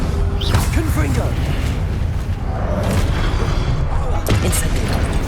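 A Confringo spell blast in Hogwarts Legacy, heard as booming low impacts and swishes within dense combat noise, with a sharp burst near the end and voices in the scene.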